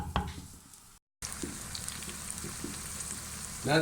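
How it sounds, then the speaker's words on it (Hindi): Chopped onions hit hot oil in a pan for Pakistani moong dal and keep up a soft, steady sizzle, fairly quiet and with no talking, after a short silent gap and a brief stir near the end. "ये ऑयल हमारा गरम हो चुका है, अब इसमें ऐड करने लगे हम प्याज।"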